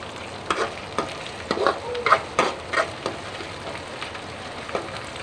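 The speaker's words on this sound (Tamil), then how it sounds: "எண்ணெயிலே நல்லா வேகட்டும்." Garlic frying in oil for a fish curry, a steady close sizzle broken by irregular scraping stirs about every half second, with no voices.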